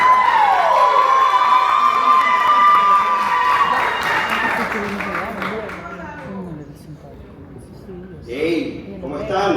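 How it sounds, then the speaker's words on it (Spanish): Crowd noise with scattered applause and cheering for a speaker at a real estate investment training event, rising briefly near the end, partly under a voice talking and a sustained tonal sound early on. "Por favor, un fuerte aplauso,"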